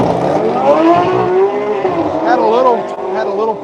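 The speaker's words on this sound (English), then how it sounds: "This ought to be a really quick run for the Porsche." Porsche GT3 4-liter launching at a Quaker City drag strip, a loud engine roar with rising and falling revs as the car pulls away, under commentary voices.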